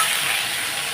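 Spices and salt frying in hot oil for a Bengali rohu fish curry (rui macher jhal), a steady close sizzle with soft crackle that holds evenly for under a second, with no talk.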